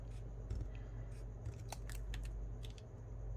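Scissors snip through scrap paper in a few quick, close, crisp cuts with short pauses between them, over a low steady background hum.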